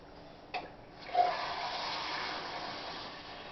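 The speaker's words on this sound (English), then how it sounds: "She take 2 cans and fill it up with water." Cold water gushes and pours into 12-ounce cans with a rising, hissing rush after a couple of faint knocks, running steadily at moderate volume.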